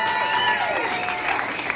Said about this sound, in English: Everybody give a round of applause to Steve, please.